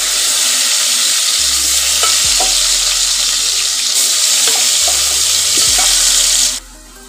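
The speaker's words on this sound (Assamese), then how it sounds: "আৰু ইয়াতে মই আলুকেইটা ফ্ৰাই কৰি ল'ম।" Potato pieces frying in hot oil in a home kitchen, a loud steady close sizzle with occasional stirring clatter, cutting off near the end, with no talk.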